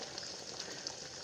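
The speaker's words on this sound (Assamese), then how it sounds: "এয়া মাংস পূৰা উতলি আছে" Broiler chicken curry boils in a covered pot, giving a steady, close bubbling hiss with no pauses and no voices.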